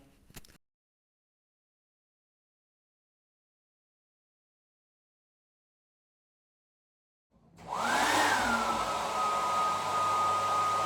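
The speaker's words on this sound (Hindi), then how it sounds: "मैंने हेयर ड्रायर ऑन कर दिया है" After a brief sound and a long silence, a hair dryer whirs up and then blows with a loud, steady rushing hum.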